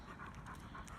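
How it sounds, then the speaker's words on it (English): A dog pants close by in quick, steady rhythmic breaths, heard alone and fairly faint. "So that was the dog."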